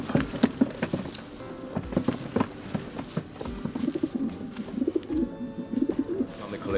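Racing pigeons coo softly in a loft and shuffle around, with frequent scuffs, wing flutters and pattering from their feet close by.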